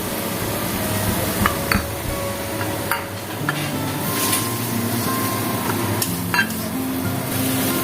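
Chili paste and spices fry loudly in a pan for a tangra fish dish, a steady close sizzle with occasional stirring scrapes and clinks running throughout.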